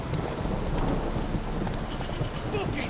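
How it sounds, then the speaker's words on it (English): A heavy downpour in The Witcher 3: Wild Hunt hisses as a dense, continuous wash of rain with scattered patter, steady and fairly loud throughout. "This downpour's a bastard, it is."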